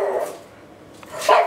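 A pet dog, one that loves red bell pepper, barks twice: a short yelp at the start and a louder bark just over a second later, with quiet between.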